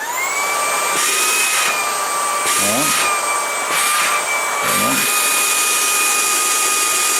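A Tineco A10 Hero cordless vacuum cleaner runs on its max setting, a loud, steady high whine with a strong tonal hum, interrupted several times by brief changes in the airflow sound.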